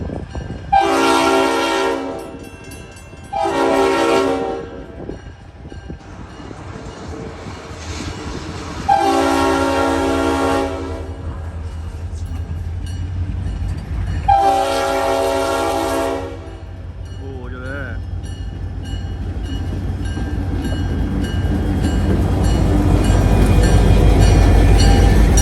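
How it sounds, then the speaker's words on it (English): Several loud train horn blasts, some long and some short, over a low rumble of a Norfolk & Western train switching cars along the track, with rail noise building toward the end. "Got some railroad switching here."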